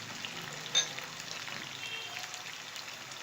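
Green chillies sizzle and fry with minced keema in a pan, a soft steady crackle with faint stirring, no voices.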